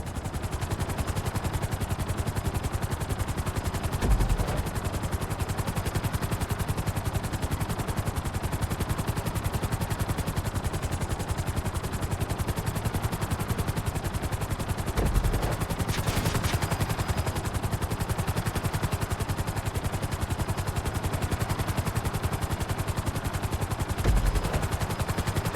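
A helicopter in GTA V hovers during a flight-school landing onto a helipad, its steady dense rotor and engine roar filling the whole stretch evenly, with a few brief thumps and no voices.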